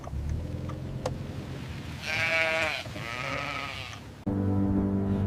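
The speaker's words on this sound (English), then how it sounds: "Sheep have right of way here." Sheep bleating in rural Iceland, several drawn-out, wavering bleats close by, one after another, over a low steady rumble that continues beneath.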